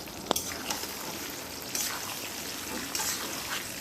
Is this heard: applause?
no